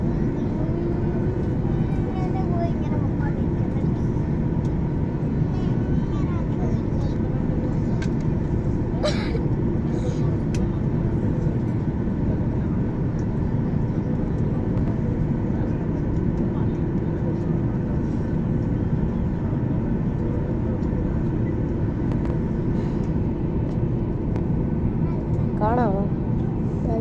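Cabin of an airliner in flight, a constant loud broadband roar of engines and airflow with a steady low hum, unchanging for the whole stretch and with a few faint clinks.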